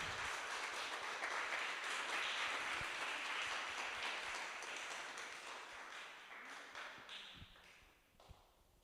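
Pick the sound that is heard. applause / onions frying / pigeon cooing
applause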